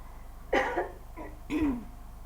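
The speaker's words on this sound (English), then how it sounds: "I'm coughing a little bit, so just excuse me." A person coughs sharply, then clears their throat twice in short rough bursts, close and fairly loud, with a quiet pause between.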